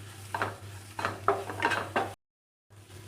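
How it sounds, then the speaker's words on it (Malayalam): Maggi noodle masala being stirred and sautéed in butter in a pan, with close scraping strokes of a utensil against the metal repeating at a steady pace, then a brief drop to silence before the stirring resumes. "ഇത് നന്നായിട്ടൊന്ന് വഴറ്റിയെടുക്കുക."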